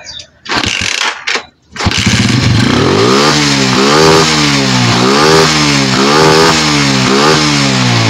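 A Skygo 125 motorcycle engine with a noisy knock at high RPM, heard up close: a few short bursts, then a loud, sustained run of repeated revs climbing and falling in a steady rhythm.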